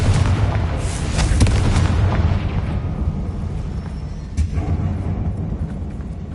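A Confringo spell explodes in the video game Hogwarts Legacy, giving a loud, dense, rumbling blast with crackling debris that slowly fades, without talk.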